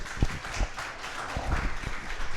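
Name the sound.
audience applause for speaker Ben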